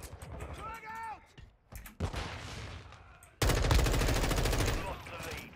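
Gunfire in Modern Warfare 2 gameplay, with scattered shots early on, then a loud, dense automatic burst that runs through the final seconds, while a voice talks over the opening part.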